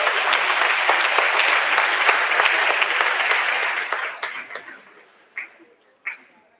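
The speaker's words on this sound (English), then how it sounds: "so let's give yourself a round of applause" New students at a high school orientation applaud together in a dense, steady burst of clapping that thins out over the last couple of seconds into a few scattered claps.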